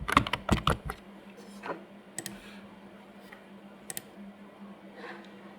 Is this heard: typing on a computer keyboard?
yes